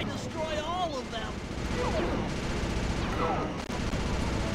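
Rapid gunfire in a Sly 2 boss battle video game, a dense continuous barrage of shots and blasts mixed with whistling game effects and voice sounds throughout.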